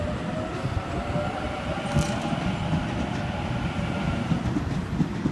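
A Sydney Trains service pulls away from the platform at Auburn station at night, giving a steady low rumble and rolling wheel noise that holds even and continuous throughout.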